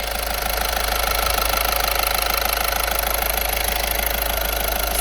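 Engine of a used car idling steadily during a pre-purchase inspection, a continuous close mechanical hum with a faint knocking rhythm and vibration, no talking.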